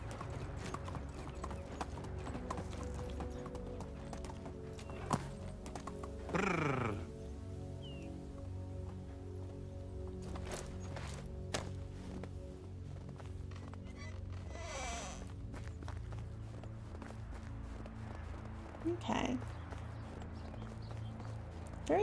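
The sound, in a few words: horse hooves clip-clopping, from the video game Medieval Dynasty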